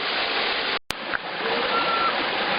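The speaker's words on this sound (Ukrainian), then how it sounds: "є такі невеличкі водоспадики, де можна покупатися" Small cascades on a mountain stream, with steady broadband water rushing close and continuous, broken by one brief dropout.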